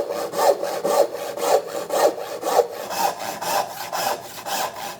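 A hand saw cuts through wood in about ten steady, rhythmic strokes, each a rasping push heard up close with no talking.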